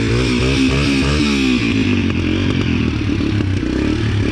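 A Yamaha TT-R125 dirt bike engine fires up after a kick start and runs loud and close, with a steady, slightly uneven idle rumble that carries on without pause.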